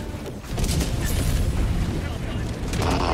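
Bomb explosion in the video game Helldivers 2: a loud, dense rumbling blast that swells and sustains for a few seconds, heavy in the low end, with voices faintly present.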